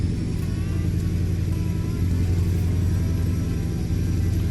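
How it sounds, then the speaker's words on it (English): In a trucking video game, a heavy diesel truck engine rumbles loudly and steadily, a deep low hum holding constant with a slight rise in pitch partway through. "This is the loudest engine I've got, I'm sure."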